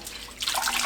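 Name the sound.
washing hijiki seaweed by kneading it in salted water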